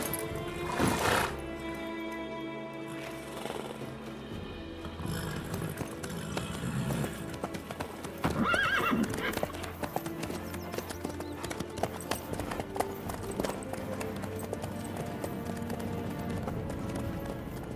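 Hooves clip-clop and thud in a galloping rhythm from a horse in The Witcher 3, mixed with game ambience and a whinny partway through, moderately loud throughout with no talk.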